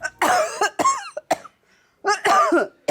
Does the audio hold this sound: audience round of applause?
no